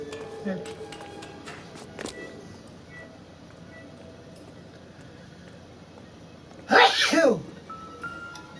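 A single sharp sneeze bursts out loudly near the end, after a stretch of quiet background with faint scattered clicks and knocks during a PlayStation 4 game session.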